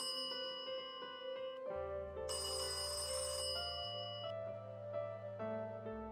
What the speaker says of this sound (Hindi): जल्दी से घर जाकर अपने भाई राम को फोन करता है।